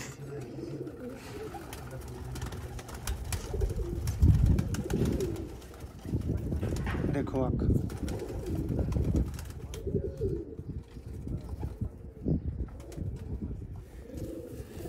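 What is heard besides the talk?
Sialkoti rooftop pigeons cooing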